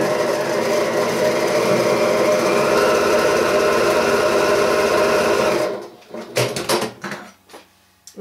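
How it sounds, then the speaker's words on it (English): A sewing machine runs at a steady, loud whir while stitching recycled quilt strips, then stops abruptly, leaving a few clicks and handling knocks of fabric and machine parts. "I lay it down, lay the strip over it, and sew."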